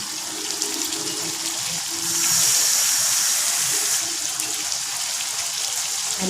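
Water splashes steadily into a pan of crab masala cooking for crab perattal, a continuous rushing pour that swells louder midway over an underlying sizzle, with no talking.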